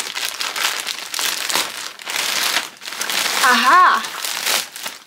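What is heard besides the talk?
ripping open a large parcel package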